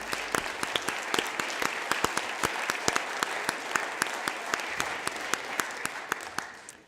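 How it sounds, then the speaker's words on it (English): Sustained applause fills the House of Representatives chamber, a dense, steady clatter of many hands clapping with sharp individual claps standing out, holding level throughout before easing slightly at the end. "give them a round of applause"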